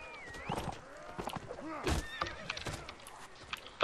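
A horse neighs in the Mount & Blade Warband video game, a clear whinny amid thuds and game combat noise, with voices talking over it.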